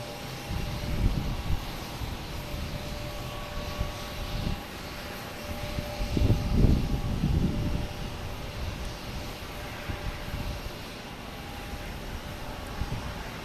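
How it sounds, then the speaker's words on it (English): An American Airlines Airbus A319 arriving from Philadelphia at Boston Logan produces a steady, moderately distant engine roar, swelling briefly in the middle before settling back into a constant rumble. "next to arrive is American Airlines, the"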